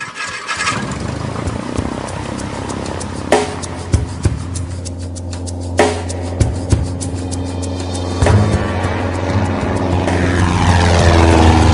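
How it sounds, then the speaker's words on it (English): A small propeller airplane drones steadily in flight over irrigated flatlands near Blythe toward low desert mountains, its engine hum continuous and loud with a few brief louder knocks and a rising tone near the end. "The flight takes us from the irrigated flatlands around the small town of Blythe towards a low range of mountains in the distance."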